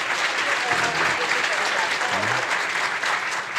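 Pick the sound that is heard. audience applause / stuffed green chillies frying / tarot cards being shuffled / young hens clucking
audience applause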